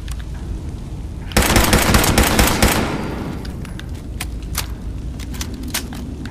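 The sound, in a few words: gunfire shooting for a headshot in the video game Fallout 76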